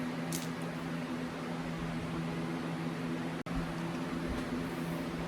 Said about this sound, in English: Sorry for the noise, the fan